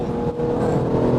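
A tuned 700-horsepower BMW M4 G82 pulls at partial throttle, giving a loud, close, continuous low engine growl that builds briefly without any talk.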